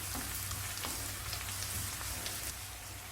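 Carrots and green chillies sautéing in a pan with onions, giving a steady, soft, even sizzle and crackle throughout, with no voices.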